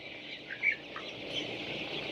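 A flock of young broiler chickens in a poultry shed clucks and chirps softly and continuously, a steady murmur of many birds at moderate distance with a few slightly louder calls.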